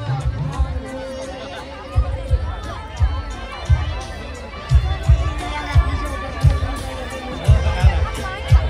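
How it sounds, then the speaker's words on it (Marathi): A busy crowd fills the dining area at a large wedding of a few thousand guests, a steady babble of many voices with rhythmic low thumps of music beating underneath throughout. "बघू शकता जेवणाच्या सेक्शन मध्ये गर्दी बघा."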